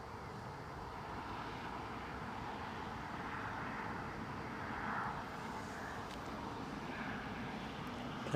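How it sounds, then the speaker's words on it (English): A Loganair aircraft taxiing out for departure at Newcastle International Airport makes a steady, fairly distant engine roar and hum that rises slightly in the middle. There is no talking. "Logan Air are now starting to taxi out for their Exeter departure."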